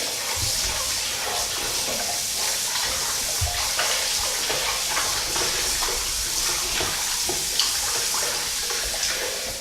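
Beef tripe is washed under a running tap, with a steady close hiss of flowing water and occasional splashes and handling sounds.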